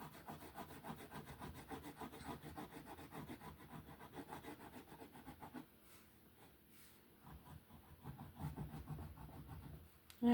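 Steady scratchy rubbing as a brown crayon is dragged over a paper coloring page in rapid back-and-forth strokes, close and quiet, with a brief pause partway through.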